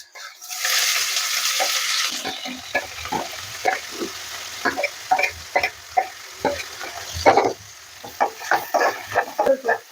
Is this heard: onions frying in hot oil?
yes